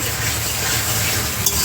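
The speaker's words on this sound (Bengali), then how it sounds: "টমেটোগুলোকে দিয়ে আমি আরো 2 মিনিট নাড়িয়ে নেব।" Chopped tomatoes frying in hot oil for a Bengali fish curry of folui fish with shola kochu, stirred steadily, giving a continuous close sizzle with soft scraping and no talk.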